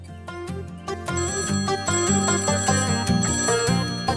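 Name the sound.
phone ringing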